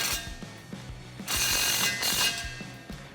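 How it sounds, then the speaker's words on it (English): A ratchet with a 10mm socket tightens the built-in clamp on a Rough Country dual exhaust fitted to a 2014-2018 Silverado, giving a close, rapid clicking with periodic pauses and a louder burst midway. "Grab a 10mm socket and 10mm wrench and tighten that down."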